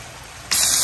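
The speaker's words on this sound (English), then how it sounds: "the water gonna be spraying all over me" Water spray switching on suddenly halfway through, a loud, steady hiss of spraying water up close after a quiet start.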